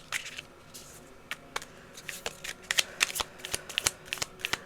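Tarot cards shuffled by hand in a quiet room, a run of soft riffling flicks and crisp snaps that grows busier and denser toward the end, close and moderately loud with no talking.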